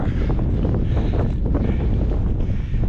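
Strong mountain wind blasts across the microphone on a hike in the Alps at La Rosière. It makes a loud, continuous roaring rumble with no pause.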